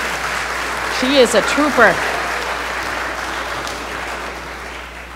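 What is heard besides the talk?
congregation applause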